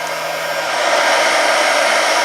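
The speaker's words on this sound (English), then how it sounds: "So we stuck the old bilge pump outside." An old, worn bilge pump runs outdoors, giving a steady, loud broadband whir that holds constant and slightly swells with no pauses and no one talking.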